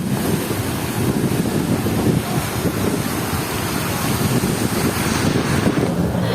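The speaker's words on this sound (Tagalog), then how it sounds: "Tapos ang lamig pa dito, mahangin siya." Wind blows hard and continuously in a cool, crowded plaza near a fountain in Taguig, a broad roaring rush buffeting the microphone with no clear voices.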